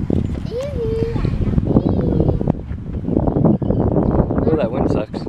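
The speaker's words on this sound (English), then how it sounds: "Oh, that wind sucks." Gusty wind at a park buffets the microphone with steady rumbling noise, while people and someone talk over it.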